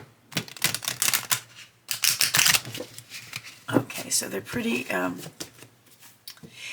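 Rapid crisp riffle shuffling of tarot cards, several fluttering bursts, with a person talking over and between them.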